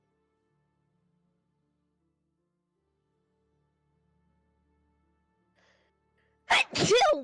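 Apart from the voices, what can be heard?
sneeze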